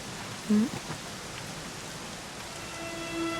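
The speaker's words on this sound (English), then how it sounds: "it was raining like this the last time I ever saw her" Steady rain falls in the Dragon Quest XI video game at the ruins of Dundrasil, a constant soft hiss with no talk and one brief low blip near the start.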